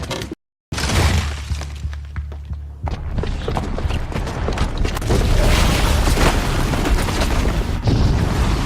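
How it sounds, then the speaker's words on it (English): A booby-trapped bomb blows up in the video game Horizon Zero Dawn: a loud, close boom, then shattering debris and a long rumbling crackle of crumbling material. "the booby trap on the bomb downstairs is gonna get set off"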